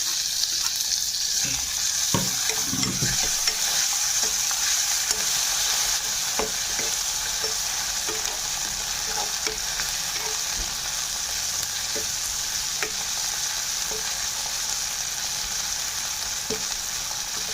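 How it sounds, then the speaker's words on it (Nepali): Chopped onion and tomato frying in a pan, a continuous loud sizzle with occasional clicks and knocks of a stirring spoon, close and steady throughout without speech. "यो प्याज हल्का फ्राई भइसकेको छ, यतिको ब्राउन भइसकेको छ। र यसको बादमा म टमाटर दिँदैछु।"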